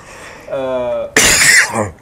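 A short vocal sound followed by a harsh, forceful cough close to the microphone, then a brief trailing throat noise.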